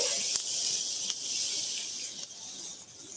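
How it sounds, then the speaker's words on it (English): Half a portion of butter sizzles in a hot pan during Portuguese cooking, a steady bright hiss alone with a few faint ticks and pops, no talk. "we are going to put just about half of the butter inside. Let that sizzle."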